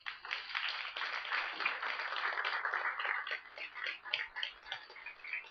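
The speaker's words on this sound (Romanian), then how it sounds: "Și pentru asta v-aș ruga să-i aplaudați de la început." Audience at a poetry gala applauds musicians with a fairly faint, sustained crackle of many small clapping hands, steady and unbroken throughout.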